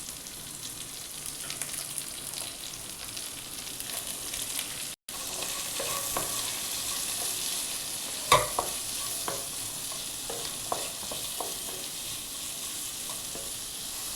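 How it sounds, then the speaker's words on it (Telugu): Onions frying with curry leaves in a pan for a chicken dish, a steady close sizzle with occasional scraping stirs and clinks, no talking over it. "ఇది బాగా కలర్ వచ్చేంత వరకు వేయించుకోవాలి ఫ్రెండ్స్"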